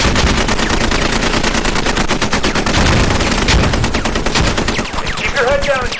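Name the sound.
live-fire gunfire during squad training exercise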